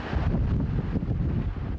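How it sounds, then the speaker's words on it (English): Cold wind gusts blast down from the San Bernardino Mountains across a suburban roadway, roaring steadily into the microphone as a loud, buffeting rumble with no letup. "Gusts of cold air blasting down from the San Bernardino Mountains, turning a suburban roadway into a tumbleweed junction."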